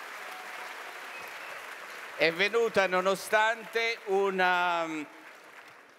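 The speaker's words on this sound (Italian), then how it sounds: "Francesca, vieni avanti e accoglietela con un applauso" Audience applause at the CERSAIE 2019 event, a steady wash of clapping that carries on underneath a speaker talking in Italian.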